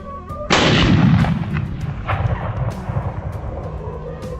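Loud gunfire aimed at invasive wild boars in an open field, one heavy booming shot followed by a string of fainter cracks and echoing reports spread over several seconds.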